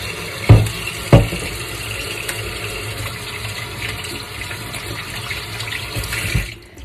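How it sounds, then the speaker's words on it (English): Hands are washed under a running tap, a steady close stream of water with two heavier splashing bursts near the start before the flow cuts off at the end. "go back to washing our hands again"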